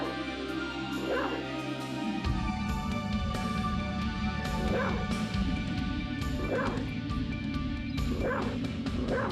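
Wolf sounds from the video game Castlevania: Symphony of the Night, with repeated yelping, dog-like cries rising over a dense, loud rumbling game soundscape, with no talking.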